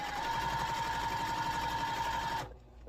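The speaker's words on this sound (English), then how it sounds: "just flip them over and sew them together" A sewing machine stitches quilt block pieces together in a steady, fast mechanical whir with a rhythmic needle patter, close up. It runs continuously and then stops abruptly near the end.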